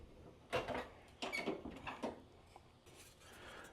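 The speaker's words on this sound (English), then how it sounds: "let me open the door." An old-school car's door is opened, giving a few close creaks and mechanical clunks, fairly faint, with no talking.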